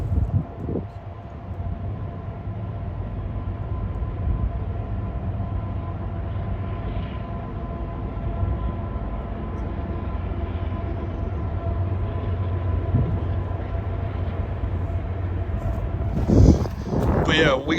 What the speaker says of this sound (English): we got 1 train over here, and then we got 1 about to come through here